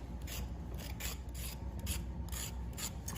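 A knife blade shaves the skin off a carrot for carrot cake in rapid, even rasping strokes, about two per second, close and quiet with no voices.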